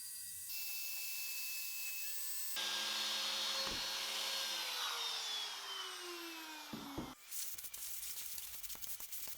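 A wood router cuts around an inlay template with a loud high-pitched whine that rises sharply as the bit engages, its pitch dropping during the cut, then gives way to rough, uneven cutting noise.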